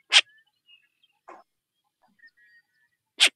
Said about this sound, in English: this owl makes some really interesting kind of barking sounds